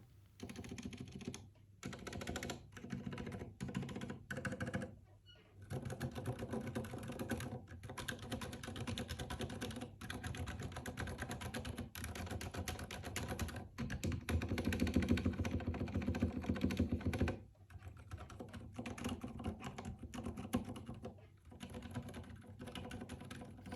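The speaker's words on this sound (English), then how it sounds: "Now let me do the sound test of Zeal PC switches. These are Rozelios silent linear switches." Typing on a Ducky One 2 SF Iodine keyboard fitted with Zeal PC Rozelios silent linear switches, a soft muffled patter of rapid keystrokes in uneven bursts with brief pauses, close and fairly quiet.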